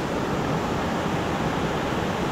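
Waterfalls on a creek pour with a steady, dense rush of water, close and unbroken, and no one speaks.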